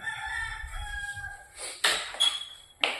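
Rooster crowing at a home in the Philippines, with bursts of crowing between about 1.7 and 3 seconds after a low hum, moderately loud and fairly near.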